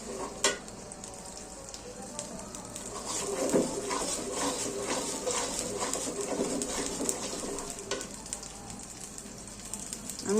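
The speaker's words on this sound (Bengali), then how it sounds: "পেঁয়াজটা ভালো করে কষিয়ে নিতে হবে।" Onion sautéing in a pan for bhuna khichuri with red lentils, a steady close sizzle with stirring scrapes running throughout, and bird cooing faintly in the background.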